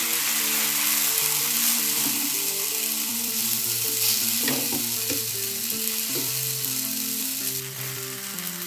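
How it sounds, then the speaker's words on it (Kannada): A jowar flour dosa cooks on a pan over medium heat with a continuous, moderately loud sizzle and a few soft scraping touches, set against a steady melodic tone in the background. "ನೋಡಿ, ಹೀಗೆ ಮೀಡಿಯಮ್ಸ್ ಇಟ್ಬಿಟ್ಟು ಈ ಥರ ಬೇಯಿಸ್ಕೊಳ್ಬೇಕು"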